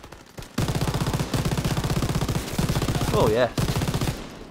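Machine-gun fire from a mounted MG in Call of Duty WWII on D-Day, with long loud rattling bursts broken by short pauses and a voice speaking briefly over the shooting.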